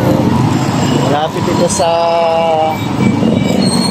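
An LRT light rail train passing near a station in Pasay, a rumbling roll with a squealing, tonal wheel screech in the middle, close and fairly loud beneath someone talking.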